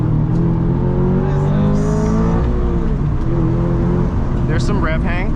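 Toyota GR86 engine revving from inside the cabin, a steady loud drone with rising and falling harmonics, the revs hanging briefly before easing off throttle; people talk over it.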